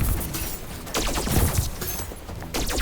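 Twin short-range laser pistols fire in a survivors-like video game, a dense, continuous volley of rapid crackling shots over the whole stretch with a few heavier bursts.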